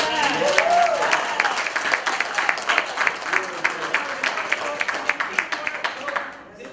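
Youth group members clapping for themselves, a full burst of applause that thins into individual distinct claps fading out, with a brief voice near the start.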